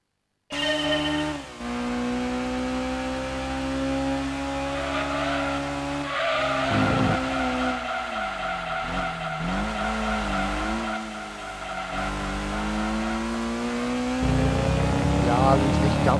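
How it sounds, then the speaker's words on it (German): A Honda S2000 in the Gran Turismo 2 racing game drives with a steady engine whine that rises and falls through gear changes, with repeated tire squeals and skidding through corners, loud and continuous. "Mit dem Honda S2000."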